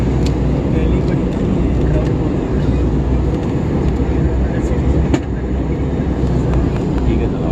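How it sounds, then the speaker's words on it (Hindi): An airplane landing near Delhi, heard from inside the cabin as a steady, loud, low roar of engine and airframe noise that continues without a break. "जहाज लैंडिंग कर रहा है।"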